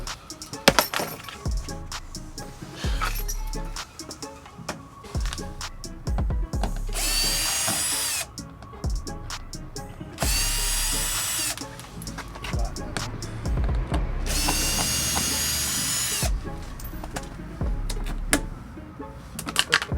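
Power drill driving a screw to remove a car number plate on a BMW M135i: three loud whirring bursts of a few seconds each, with clattering handling noises between them.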